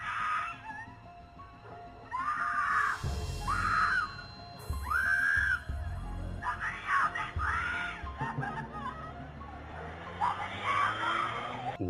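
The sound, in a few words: woman screaming, recorded by doorbell camera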